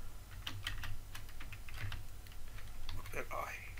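Computer keyboard typing Java code, rapid irregular clicks close by under a voice speaking Hindi.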